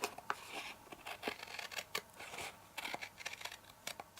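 Scissors snip through paper up close, a quiet series of crisp irregular cuts spread across the moment while trimming the top of a crafted paper votive panel.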